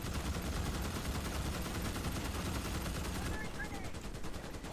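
Rapid, dense turret gunfire in the Starship Troopers: Extermination video game roars continuously and loudly throughout, a relentless automatic barrage layered with game effects.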